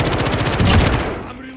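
Rapid automatic gunfire in a video game, a dense burst of close, loud shots that swells briefly and then cuts off, leaving a faint tail.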